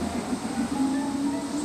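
A steady low rumble and hum of a passing train in Nebraska, with a faint high-pitched whine, continuous and moderately loud.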